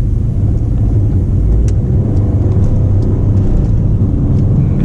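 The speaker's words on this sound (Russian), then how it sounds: "если ты прибавляешь газку, машина так рычит по-спортивному" Citroen DS3 engine growling loudly as it accelerates, a deep, steady, sporty rumble heard close up from inside the car, with no talk over it.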